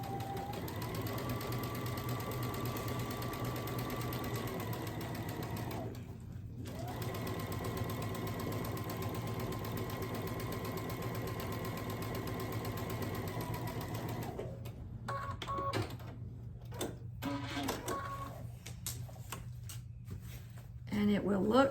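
A sewing machine stitches quilt blocks in steady, continuous runs, its motor whirring loud and close, pausing briefly near the middle and breaking into choppier bursts toward the end.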